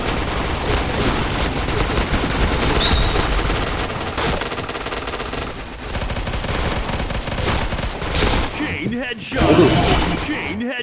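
Rapid automatic gunfire and bursts of shots in a shooting video game, dense and continuous with crashes and impacts, under excited talk from players.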